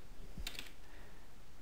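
A few quick, light clicks on a computer keyboard as numbers are entered, sparse and close against a quiet room, with no one talking.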